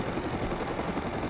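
Steady broadband rotor and engine roar of a helicopter, loud and continuous throughout with no talk.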